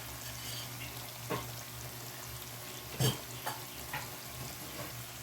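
Coconut milk frying down into latik with the oil separating, heard as a steady, quiet sizzle with a few soft stirring knocks and scrapes, and no talk.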